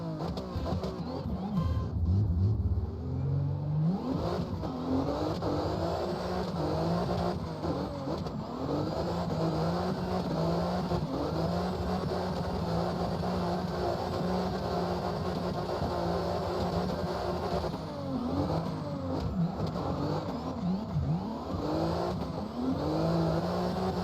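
A BMW E92 engine in the video game CarX Drift drones loudly and continuously, its pitch rising and falling through repeated revs and gear changes while the car drives on.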